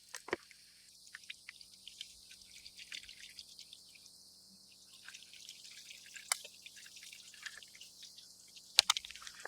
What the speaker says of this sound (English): test it by pouring water over the window.